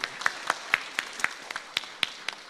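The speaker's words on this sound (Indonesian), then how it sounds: "iya kita berikan tepuk tangan." Sparse clapping from a small audience at an Indonesian community event, roughly a dozen distinct claps spaced fairly evenly over a couple of seconds against a quiet room.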